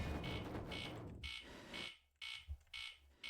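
Repeated electronic warning beeps sound in a Minecraft zombie apocalypse modpack, short evenly spaced pulses that are fairly faint and play alone.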